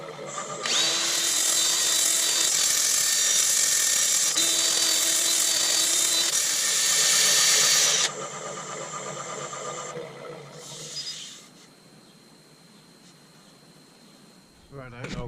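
A sapele fruit bowl being sanded with 120 grit on a wood lathe, a loud continuous whirring rasp for about eight seconds that then eases and fades to quiet.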